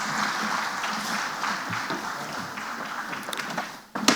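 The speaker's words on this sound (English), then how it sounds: "Please, another round of applause" Applause from the audience at a ceremony presenting financial support to widows of fallen heroes, a sustained wash of clapping that fades near the end before a few louder claps resume.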